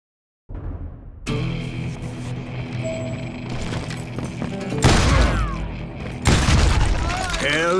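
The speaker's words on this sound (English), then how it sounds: "That scatter gun was like a double-barreled howitzer." Scatter gun blasts in the Call of Juarez: Gunslinger western shooter, heavy booming shots over a steady musical score. Two stronger blasts land near the middle and end.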